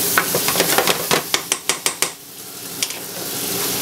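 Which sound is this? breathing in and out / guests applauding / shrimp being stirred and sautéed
shrimp being stirred and sautéed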